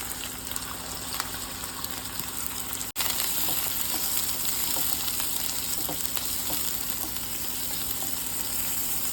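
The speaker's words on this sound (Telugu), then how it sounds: "ఆయిల్ హీట్ అయిందండి. జీలకర్ర ఆవాలు వేసుకుందాం. సన్నగా కట్ చేసుకున్న ఆనియన్ ముక్కలు వేసుకుందాం." Onions sizzle and fry steadily in hot oil with cumin and mustard seeds, a loud continuous crackle that jumps in intensity partway through as the pieces hit the pan, with no voices.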